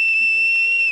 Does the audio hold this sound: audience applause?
no